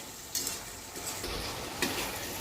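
Potatoes with spices being stirred and fried in a pan for a Bohri-style cabbage dum dish, a steady sizzle with a few scraping stir strokes, close and moderately quiet.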